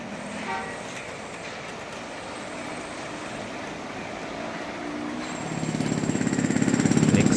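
Construction site of the Umekita phase 2 redevelopment north of JR Osaka Station: a steady broadband rumble of machinery and traffic, with a rhythmic pounding that grows louder toward the end.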